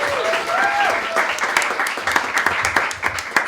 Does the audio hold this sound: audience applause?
yes